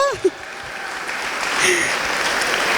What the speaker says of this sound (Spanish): un fuerte aplauso, démosle a portachuelo